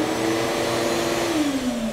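A shop vacuum runs steadily and loudly close by, switched through a remote on/off device, its motor hum holding even and then dipping slightly in pitch near the end.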